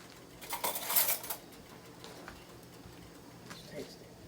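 A metal spoon clinks against dishes in a kitchen where a steak and gravy dinner is being cooked, a cluster of bright rattling taps followed by a couple of fainter knocks, with quiet background.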